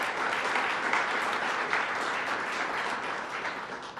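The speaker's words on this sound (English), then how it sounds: "So let's give Kevin Law a round of applause as well." Audience applause for Kevin Law at a Suffolk County gathering with Governor Kathy Hochul, a sustained, even round of clapping from a large crowd lasting the whole stretch.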